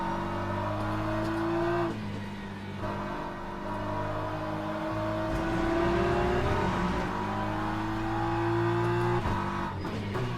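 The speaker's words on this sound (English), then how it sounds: "There's a faster class car approaching." Race car engines roar steadily in a racing video game with hypercar classes, a loud sustained drone with shifting pitch as a faster car approaches, with no talk over it.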